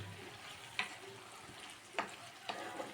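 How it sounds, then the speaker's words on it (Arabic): Tomato and onion are stirred in a sizzling frying pan for a home lunch, with a steady low fry and three sharp scrapes or clacks of the utensil against the pan. "هذا كلشي هادشي غادي نخلط ونجلط"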